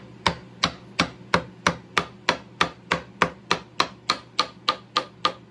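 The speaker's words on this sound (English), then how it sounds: "So I'm going to be using this mallet. It's a smaller mallet, so I can be more precise when I'm chiseling." A small wooden mallet strikes a chisel while carving an antique-style wooden spoon, giving about sixteen crisp, evenly spaced knocks in a steady rhythm, close up and with no talking.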